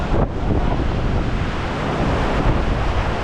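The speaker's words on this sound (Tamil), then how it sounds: "அலையும் செம்மையாக அடிச்சுட்டு இருக்காங்க பாருங்க" Ocean surf breaking against rocks at Thennetty Park in Visakhapatnam, near a stranded ship: a steady, loud roar of churning water mixed with wind buffeting the microphone, with no voices.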